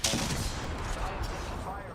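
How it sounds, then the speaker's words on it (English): Video game gunfire: a dense, sustained burst of rapid shots and blasts filling the whole moment, loud and close, with no clear gaps between them. "Opening fire on the enemy."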